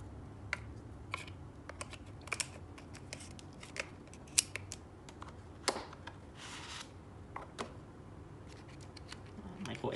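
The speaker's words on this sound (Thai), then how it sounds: "โอเคก็เอาแบตเตอรี่มาใส่เลย" A battery being slotted into a SIOnyx Aurora night-vision camera, close and quiet: a run of sharp plastic clicks and scrapes over a low steady background hum, with no talking.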